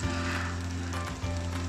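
Spaghetti frying in a narrow pan with garlic, margarine and soy sauce, a steady loud sizzle that holds throughout with a brief dip near the end, no voices.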